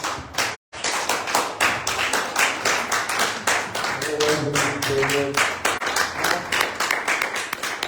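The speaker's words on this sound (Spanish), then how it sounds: "Vamos a darle un fuerte aplauso a Dios, iglesia." Church congregation claps steadily in rhythm during a Sunday morning service, many hands beating a regular pulse with a brief dropout near the start and faint voices and music underneath.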